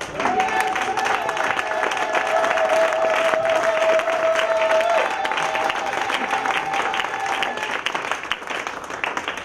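Church congregation acclaiming Jesus with sustained applause and cheering, a dense crowd of clapping hands filling the room for several seconds, with a held vocal note over it early on.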